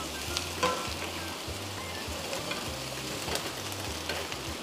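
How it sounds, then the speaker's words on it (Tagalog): Sliced pork hock sautéing in a little oil with onion and garlic, a steady close sizzle and crackle running throughout with a few scraping stirs, no voices. "Maglagay ng konting mantika, igisa ang sibuyas, at bawang."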